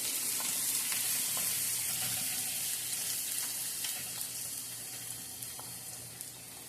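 Garlic sautéing in hot oil with mustard seeds and fenugreek for an avocado pickle, a loud, steady hiss of sizzling with occasional small pops and crackles.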